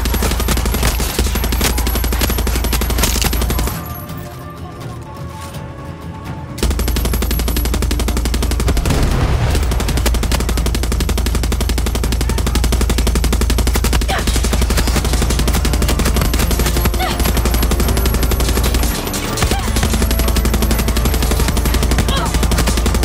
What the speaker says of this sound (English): Oh, no. Gunshot!